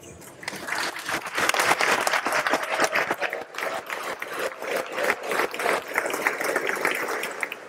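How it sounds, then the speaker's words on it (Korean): Sustained applause fills the US House chamber as the President of the Republic of Korea is introduced for a joint address, a dense, loud wash of clapping from a large crowd that continues without a break. "그냥 소개만 했는데도 박수가 끊이질 않습니다"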